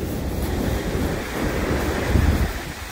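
Sea waves wash onto a beach in a steady, broad roar, with gusts of wind buffeting the microphone and swelling slightly toward the end.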